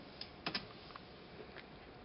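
A computer keyboard gives a few soft, irregular keystrokes, faint clicks spaced unevenly over a quiet room background.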